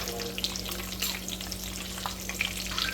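Whole spices fry in hot oil in a kadhai, a steady close crackle and hiss over a low hum, with occasional small pops.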